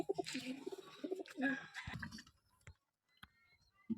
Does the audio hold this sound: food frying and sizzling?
no